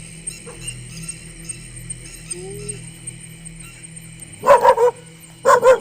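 Near a quiet outdoor background at a graveyard, with birds audible, dogs break into two loud clusters of rapid barking toward the end.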